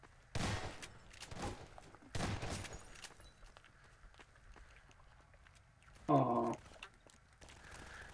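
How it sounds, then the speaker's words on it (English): Bursts of gunfire from a player shooting everything in a room during a Prop Hunt video game, with two sharp volleys early on and a louder rapid burst later, separated by quieter stretches. "Big Turkey just decided to shoot everything in the room as much as he could."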